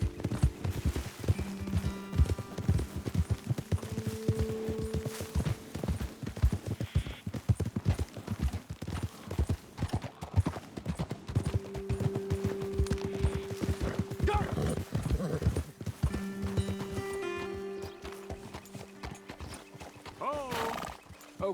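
Horses neigh and hooves clip-clop repeatedly while riding in the Red Dead Redemption 2 game, fairly loud and steady over game music, with a voice speaking briefly in passing.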